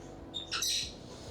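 A pet bird indoors lets out a short, shrill squawk, close and sharp, breaking briefly over a quiet kitchen background.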